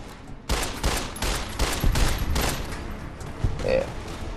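Gunfire in the video game Fallout: New Vegas comes as a rapid string of loud, sharp shots aimed at a rock, with a few spaced bursts and a brief ringing tone near the end.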